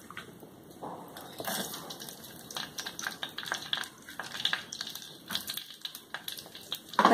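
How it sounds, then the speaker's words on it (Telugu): Green chillies frying in hot oil in a clay pot, an uneven crackle of sharp spitting pops and bursts that comes and goes, moderately close, with no talking. "ఇప్పుడు అందులో నేను పచ్చిమిర్చి వేసుకుంటున్నాను."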